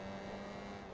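A race car with a straight-piped engine in the Forza Motorsport 2 video game, running in a Japanese Class B regional race, gives a loud, continuous raw drone for a single second with no talk over it.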